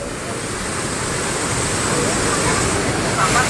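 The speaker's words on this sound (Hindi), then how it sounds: "देखो जबरदस्त पानी के बहाव है वे।" Heavy flowing waterfall beside a temple, a dense, continuous roar of water close by, steady and loud throughout without pauses.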